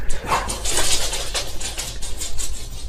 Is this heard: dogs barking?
yes